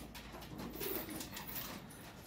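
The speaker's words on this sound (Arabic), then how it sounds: "هاي الحمام خالطة هون" Pigeons cooing steadily within a mixing flock outdoors in the early morning, a soft continuous low murmur of coos over a hissy background, moderately distant, with no talking.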